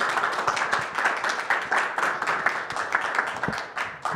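Audience applause at a diocesan house event, a steady wash of many hands clapping at moderate level, without voices rising above it.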